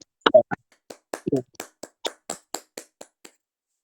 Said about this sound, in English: So let's give him a round of applause, shall we?